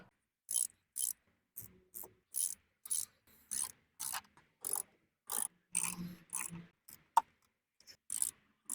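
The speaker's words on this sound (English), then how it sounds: "Second time, do it with my socket wrench and just make sure they're kind of just a little snug." A ratcheting socket wrench snugs valve cover bolts on a BMW M54 inline-six, giving repeated short bursts of close, crisp clicking separated by brief pauses.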